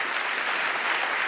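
Comedy club audience bursting into steady, dense applause at a stand-up show, a continuous wash of many hands clapping fairly close, with no voices over it.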